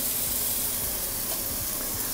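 Smashed burger patty frying in a pan, a steady broadband sizzle and hiss with crackling, close and continuous with no talk.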